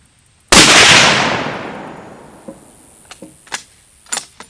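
A 1943 Mauser K98 bolt-action rifle fires a single loud, sharp shot at an outdoor target, followed by a long fading echo and a few light metallic clicks and clacks afterward.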